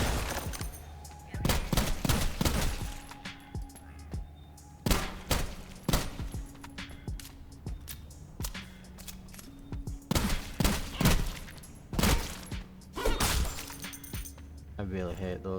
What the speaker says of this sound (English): our other option would be to use our gun right now, which is down to 12 rounds and 1 full